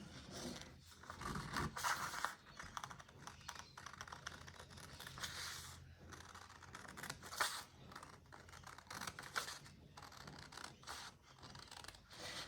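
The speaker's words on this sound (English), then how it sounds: "now I'm going to cut off the button band along that line" Small scissors snip through the button band of a doll's shirt, giving faint, irregular crisp cuts and rustling fabric close by with no talking.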